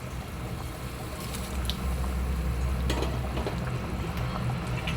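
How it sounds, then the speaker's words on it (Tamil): Hot oil tempering sizzles and bubbles as it hits a simmering prawn gravy, a steady frothy crackle close by with small pops. "நம்ம ரெடி பண்ணி வச்சுருந்த தாளிப்பை இதில் சேர்த்துப்போம்."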